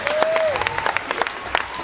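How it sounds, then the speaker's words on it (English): Audience clapping for the sponsor at a movie world premiere Q&A, a steady burst of many hands with a short whistle near the start. "a round of applause for our sponsor today, Income Store"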